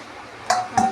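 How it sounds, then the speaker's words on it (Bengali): A metal lid lifted off a cooking pot of paneer simmering in water makes two short, close metallic clinks a moment apart over a quiet background. "এবার আমি ঢাকনাটা খুলে দেখি তো কিরম ফুটছে।"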